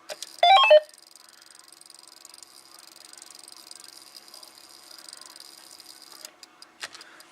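Failing capacitors inside a Samlex SEC-1212 power supply give off a steady, quiet hiss with a brisk run of small ticks, after a short sharper rattle at the start.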